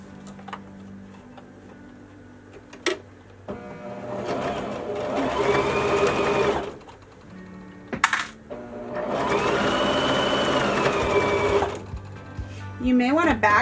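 A sewing machine stitches around a fabric soap bag in two close, loud bursts of fast rhythmic needle clatter, separated by quiet ticking and brief handling of the fabric, with speech at times.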